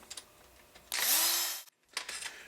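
A power drill drives a screw into a Turtle Racing rear transmission plate, a single short whirring burst that rises in pitch and cuts off, amid small clicks and handling noises, no talking.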